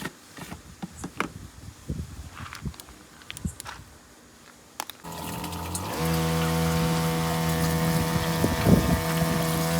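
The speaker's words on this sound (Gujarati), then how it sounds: "અત્યારે પંપને ચાલુ કરી અને આપણે મૂકી દેવાનો છે" A lithium battery-powered sprayer pump is switched on partway through, bringing a steady motor hum with tonal whine that runs continuously after scattered handling clicks and rustles.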